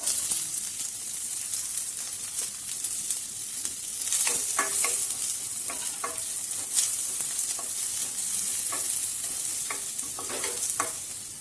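Chopped onion frying in hot oil for a capsicum egg curry, a close, steady sizzle with a few sharp crackles and spoon-stirring scrapes throughout.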